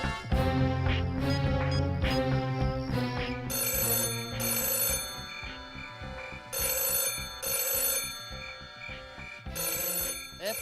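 A mobile phone rings with a loud musical ringtone: a melodic phrase that repeats in bright, even bursts for several seconds, with no voices over it.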